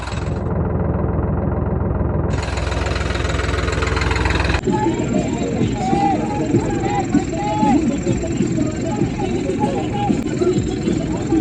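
A tractor engine idles in place at a film shoot for a tractor stunt sequence, a steady close mechanical rumble that continues throughout while people talk nearby in the background.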